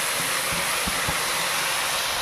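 Cauliflower and potatoes sizzle loudly in hot oil in a pan, going into a rohu fish curry with turmeric. The steady hiss is broken by a few soft low knocks near the middle.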